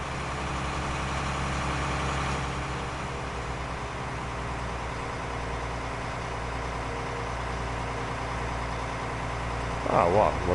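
A farm vehicle's engine idles with its exhaust running: a continuous, even low drone with a steady throb that holds unchanged for about ten seconds, with a brief rise in activity at the very end.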